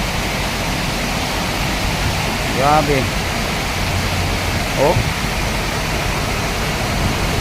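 Broadband rushing roar of a swollen river after heavy rain, with floodwater and landslides nearby, steady and loud throughout while a voice briefly exclaims over it.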